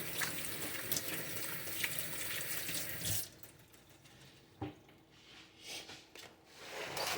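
Hands being washed under a running kitchen tap, a steady hiss of water for about three seconds, then quieter splashing and dripping as the hands move under the faucet.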